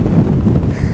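Strong gusty wind buffets the microphone on an exposed rocky summit of Glaramara in the Lake District fells, a continuous low rumbling roar that fills the whole second without pause.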